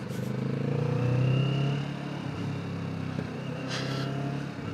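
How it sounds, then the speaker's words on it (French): A 2025 Kawasaki Vulcan S motorcycle rumbles at a steady low idle close by, its exhaust giving a continuous throb with a faint pop or two. "l'échappement, il y a les petits retours, c'est vraiment cool"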